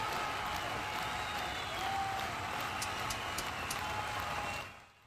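Crowd cheering and applauding at a girls varsity lacrosse game, a loud steady roar of many spectators with some sharp claps and whoops, holding level for about four and a half seconds before cutting off abruptly.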